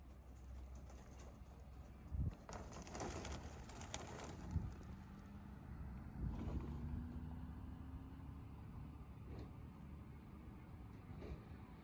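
Pigeons are released outdoors and take off, with a few soft coos and wing flaps over a low engine hum in the background.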